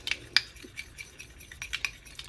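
A skin polish mixture with fresh lemon juice is stirred with a small spoon in a bowl, giving quick, light clinks and scrapes in an uneven rhythm, close and fairly soft.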